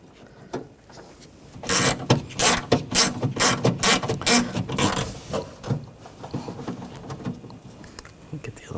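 A ratchet tightens rear window regulator bolts on a 2014-2020 Nissan Rogue, producing a long, steady run of rapid close clicks that tapers into quieter handling noise, with no talking.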